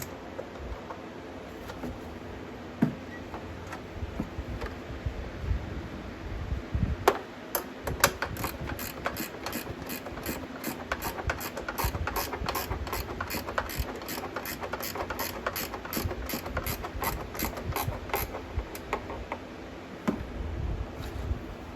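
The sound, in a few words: ratcheting wrench clicking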